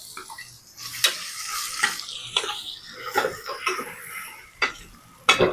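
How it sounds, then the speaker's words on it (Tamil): Ground cinnamon, cloves, ginger, garlic, cardamom, fennel, pepper and cumin paste frying in oil for a chicken gravy, with a soft sizzle broken by several distinct stirring scrapes and splatters close by. "பச்சை வாசனை போகிற மாதிரி எண்ணெயிலே கொஞ்சம் ஃப்ரை பண்ணணும்"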